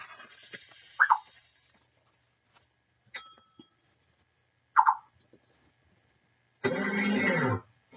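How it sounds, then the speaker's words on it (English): Short electronic tones from a Fast ForWord auditory training exercise sound in sparse bursts separated by silence, with a longer, louder buzzy tone near the end. "As the participant progresses, the tones become shorter and quicker."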